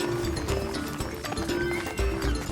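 Horse hooves clip-clop steadily at close range through a dense, busy mix of outdoor noise, with no clear talk over them.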